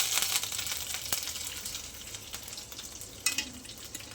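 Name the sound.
curry leaves added to hot oil, sizzling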